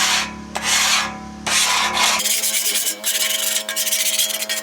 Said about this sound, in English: I'll use a scraper tool and now begin to remove some of the surface rust